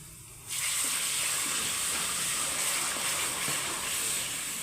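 Water poured into a hot pan of roasting moong dal spiced with turmeric, coriander and chaat masala sets off a sudden loud, steady hiss and sizzle that starts after a half-second and keeps going, with faint crackles throughout.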